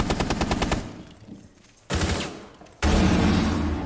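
Rapid automatic gunfire in a video game, a fast rattling burst that fades, then two louder sustained volleys, close and dense with no talk.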